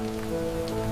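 Steady rain falls on a city skyline, a dense, even patter of drops hitting hard surfaces with no pauses, close and fairly loud, with no voices.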